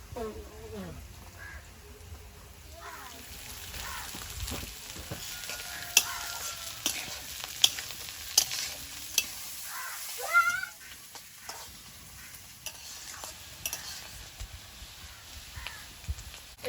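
Beans and half-fried carrots sizzle in an oiled wok while being stirred, a continuous hiss punctuated by repeated spatula scrapes and taps, with a voice talking intermittently in the background.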